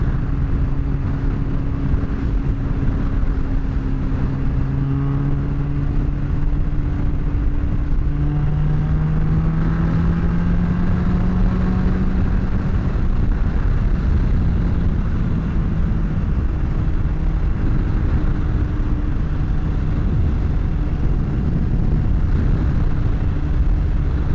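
Motorcycle engine droning steadily while riding on a windy road, with shifting engine tones and constant wind rush throughout, no talk.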